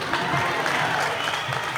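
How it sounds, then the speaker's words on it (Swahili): Crowd clapping at a prayer meeting in Kariakoo, Dar es Salaam: a dense, steady wash of applause from many hands, close and fairly loud, continuing without a break and with no talk over it. "Pigia Yesu makofi kwa ajili yao."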